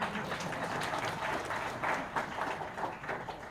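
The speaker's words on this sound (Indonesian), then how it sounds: "Tepuk tangan buat panitia." Applause for the organizing committee at a gathering, a steady wash of many hands clapping, moderately loud and continuous for a few seconds.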